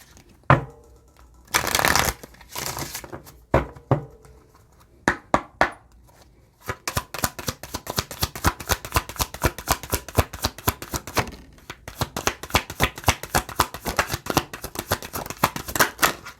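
A deck of rubber playing cards is shuffled: a few scattered riffles and taps at first, then a long, steady run of rapid, crisp flicking from close by.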